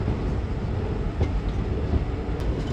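A train pulls into platform 2 at Gola station on a journey from Ramnagar, giving a continuous heavy rumble with faint rhythmic clatter and occasional squeaks, close and steady throughout.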